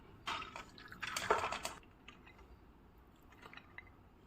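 Soaked chana dal being drained of its water for a vada curry premix, with short bursts of trickling and dripping water near the start, then quieter faint drips and small clinks.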